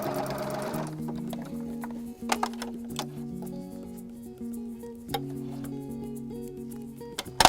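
Sewing machine back stitching a hair bow, a steady whirring hum broken by a few short bursts and clicks as the stitching stops and restarts, close and fairly quiet with no talking.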